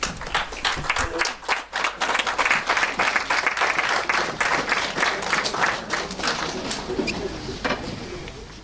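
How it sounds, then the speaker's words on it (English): An audience at a mass housing handover ceremony applauds for the Minister, with dense, loud clapping that starts abruptly, holds steady, then gradually thins out and fades. "let us stand and give him an applause as we invite the Minister"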